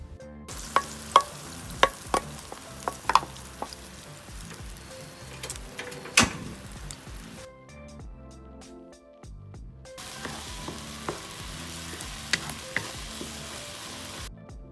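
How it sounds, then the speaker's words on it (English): Green curry paste stir-fried in vegetable oil on low heat, giving a soft steady sizzle broken by sharp spatula clicks and scrapes. A brief near-silent gap midway, then the gentle frying hiss returns. "Add in vegetable oil into the pan and we're going to stir fry the curry paste on low heat"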